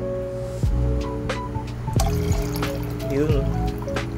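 Dechlorinated stock water being poured for baby brine shrimp, a light trickle and splashing over a steady background hum, with a person talking throughout.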